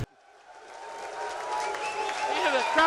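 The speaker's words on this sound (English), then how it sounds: "the crowd is going crazy here" A crowd at a pool billiards match breaks into applause and cheering, starting softly and swelling steadily louder into a dense roar.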